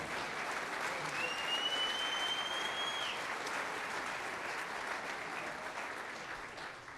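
Sustained, dense applause from the audience at a high school winter band concert, a broad wash of many hands clapping that holds steady and slowly tapers off.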